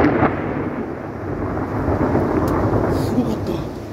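Thunder rumbles low and continuous through a heavy downpour over the sea at night, a broad roar of rain with deep rolling undertones and a few faint crackles.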